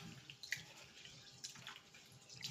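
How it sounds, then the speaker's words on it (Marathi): Urad dal is rinsed in water, with faint splashing and swishing from a bowl and a few light drips, all quiet and close with no voices. "ही उडीद डाळ मी स्वच्छ 2 वेळा धुवून घेत आहे"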